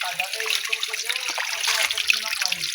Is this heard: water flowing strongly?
yes